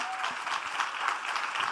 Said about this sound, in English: I would like you to please give these incredible women one last round of applause